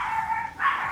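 Dogs let out two short, high, whiny barks or yips in quick succession, fairly close and clear, with no talk over them.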